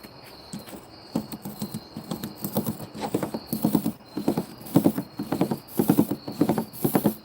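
Rhythmic clip-clop of hooves, steady trotting beats growing louder, made by a person imitating a horse rather than a real animal.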